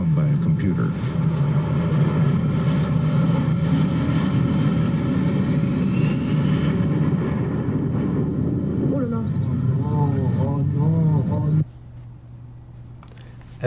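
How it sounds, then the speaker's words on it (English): A fully automated, computer-flown airplane drones steadily with a loud, continuous engine roar for most of the stretch, a voice talking over it, before the roar drops away to a quieter hum near the end. "This is the first fully automated plane, flown by a computer."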